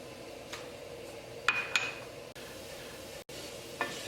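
Cumin seeds hit heating olive oil with a faint, steady sizzle, joined by a few light clinks and scrapes of a utensil against the pan in a quiet kitchen.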